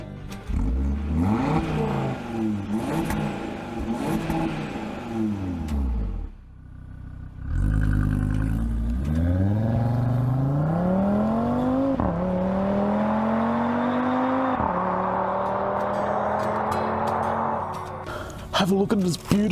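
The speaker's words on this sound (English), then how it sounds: "this turbo 5-cylinder engine. What a peach, and the sound is divine. It sounds like this." An Audi RS Q3's turbocharged five-cylinder engine revs up repeatedly, rising in pitch with a throaty growl, then settles into a sustained higher drone, loud and close.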